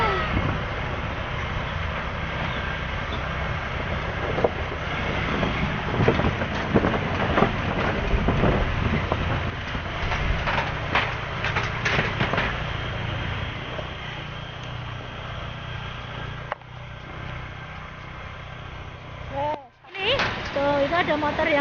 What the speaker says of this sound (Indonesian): Itu ada motor yang lewat guys.